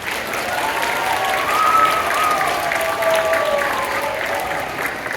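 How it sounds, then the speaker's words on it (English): A theatre audience at the Admiral Theatre in Bremerton gives loud, continuous applause for sponsors, a thick wash of clapping with faint whistles riding on top. "So please give a round of applause for Tom and Nancy Danaher."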